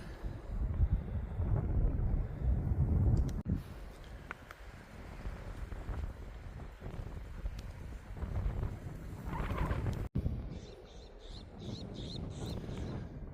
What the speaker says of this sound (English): super windy today, but yeah, it's nice and cool.